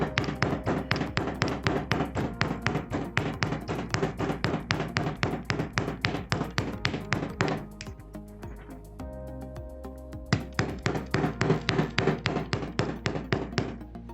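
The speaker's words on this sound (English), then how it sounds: "Now I finished hammering" Rapid, steady metallic hammer strikes ring out close and loud, pausing briefly midway before the fast pounding resumes.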